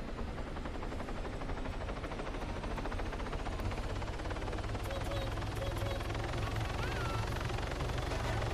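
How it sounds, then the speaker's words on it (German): A helicopter flies overhead at the scene of an attempted robbery, its rotor producing a steady, dense thudding roar that holds throughout at moderate loudness. "Die andere Heli gehört nicht zu uns."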